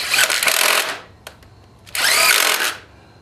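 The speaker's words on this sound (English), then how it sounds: "whether you use electric or air power on you putting bolts in, always start them by hand" A power tool drives 8 mm bolts during a starter installation, giving two loud, close whirring bursts of just under a second each, separated by a short pause with a faint click.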